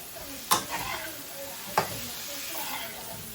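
Shrimp being added to a pan of frying turmeric and Kashmiri red chili powder, giving a soft, steady sizzle with two sharp clatters of utensils near the start.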